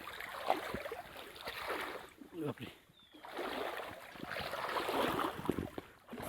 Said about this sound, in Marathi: असं दोन जोरात पाणी वाहत आहे